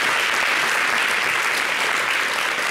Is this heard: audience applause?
yes